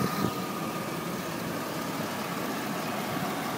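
A 2004 Chevy Tahoe LS with a 5.3 liter V8 idles steadily in hot weather, a close, even engine rumble with a slight hum and no other sounds over it.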